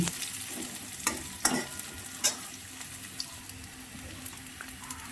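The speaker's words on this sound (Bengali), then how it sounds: "বাকি তেলে পেঁয়াজ কুচিগুলো ভেজে নিচ্ছি" Steady hiss of chopped onions frying in hot oil with scattered crackles and a few louder clinks of stirring, close up, no voices.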